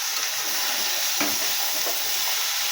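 Spices with cumin powder being sautéed in a pan for a vegetarian fig curry, a steady close sizzle with a few soft stirring scrapes and no talking.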